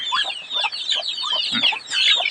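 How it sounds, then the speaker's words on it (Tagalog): Several farm roosters and hens kept for cockfighting cluck and crow in quick, overlapping bursts, close by and fairly loud, with a short low thump partway through. "Ayan ang mga tandang."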